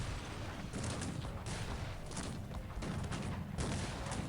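Dense battlefield explosions and gunfire in the strategy game Cossacks 3, Prussian grenadiers and musketeers fighting through a Bavarian city: a continuous loud rumble with repeated heavy bursts and crackling volleys, no pauses.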